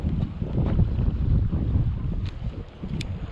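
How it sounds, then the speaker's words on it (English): Steady, loud wind blusters across the microphone beside a creek during cold-weather trout fishing, a continuous low rumbling roar with no talking. "here comes the wind"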